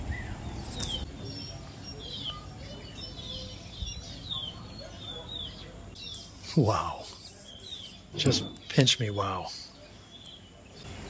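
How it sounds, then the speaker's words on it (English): Birds call outdoors beside a seating area at Lake Toba on Samosir, Sumatra, with scattered chirps through the background while someone speaks over them in places. "Listen to the birds."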